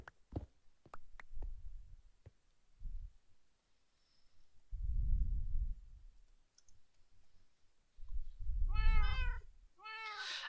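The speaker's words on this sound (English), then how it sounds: "I keep forgetting there's cats and they jump scare me every time." A cat in a video game gives two clear, rising meows near the end, after scattered clicks and soft low thumps in an otherwise quiet scene.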